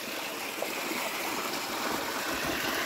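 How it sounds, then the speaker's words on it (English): A small river stream flows through village farmland in Africa, giving a steady, even rush of water that continues throughout with no other sounds. "we came across another stream of small river water"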